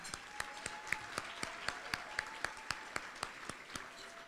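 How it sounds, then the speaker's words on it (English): An audience at a business chamber gala gives a round of steady applause, with claps clearly spaced and evenly paced throughout, moderately loud and without talk. "Please help me in acknowledging Sarah Juni and Tommy Berry by giving them a round of applause."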